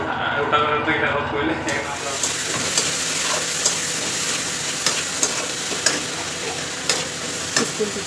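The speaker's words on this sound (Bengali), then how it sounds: "এসে মাছ রান্না করছি" Fish frying in a pan in a Bengali home kitchen, with a dense continuous sizzle and regular clicking stir taps, close and fairly loud, starting after a brief quieter moment.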